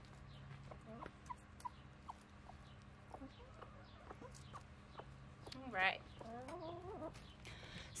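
Broody hen clucking softly in a backyard flock, scattered short clucks and a louder squawk near the middle, faint and close, with a quiet voice talking underneath.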